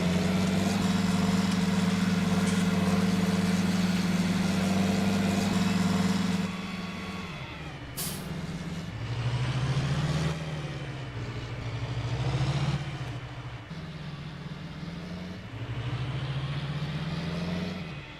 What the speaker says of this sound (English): That tractor seems awful loud to me.